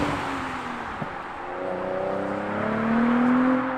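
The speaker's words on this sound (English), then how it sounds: "But you can hear that V6" Audi B5 RS4 V6 engine, tuned, running at low revs without hard revving: a smooth, moderately loud hum with a gentle rise in pitch toward the end, close by.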